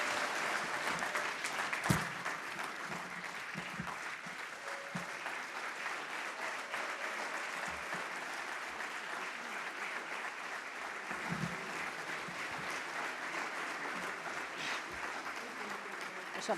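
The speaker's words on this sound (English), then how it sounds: "Please, another round of applause for the executive mother." Sustained audience applause fills a hall at the official opening of the Namibia Public-Private Forum, a steady dense wash of many hands clapping for the whole stretch, moderately distant, with a brief sharper clap near the start.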